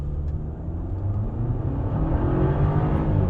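A 2009 Audi A4 launches from a standstill, its engine note building into a steady, loud in-cabin drone and rumble that strengthens through the pull, with no talking.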